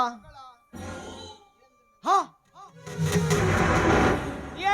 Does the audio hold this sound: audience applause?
no